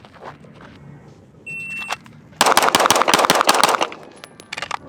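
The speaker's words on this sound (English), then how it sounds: "we're gonna go body, body, head, head, 2 shots apiece, 8 rounds" Handgun fired in a close-range drill of eight quick shots, two per target, on an outdoor range, preceded by a timer beep. The sharp reports come in a rapid, loud burst at close range with no talk over them.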